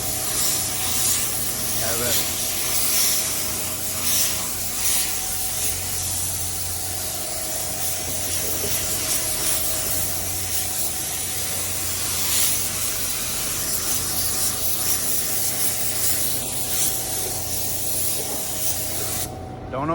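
A paint spray gun lays blueberry candy paint onto a 1984 C10 in the cold, giving a continuous close hiss with a faint steady tone beneath, while a voice speaks briefly.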